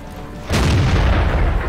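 A heavy tank cannon booms in a tank video game, a single deep loud blast partway through that rumbles on to the end.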